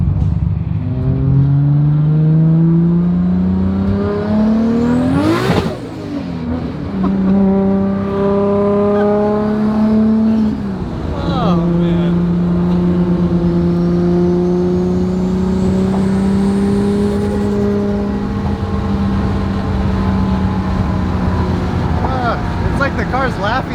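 A turbocharged 800-horsepower Honda S2000 engine roars loud and close, revving up and down in sweeping climbs with brief drops between pulls, sustained throughout.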